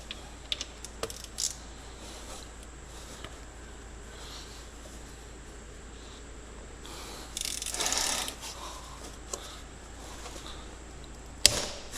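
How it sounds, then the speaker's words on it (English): A ratchet works the 9/16 nuts on the front of a semi truck's fan, giving sparse clicking pawl sounds and metallic taps with a short burst of busier clatter near the end, fairly quiet, no talking. "I'm just going to take off the 9/16 bolts on the front of this fan"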